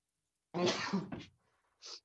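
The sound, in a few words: sneeze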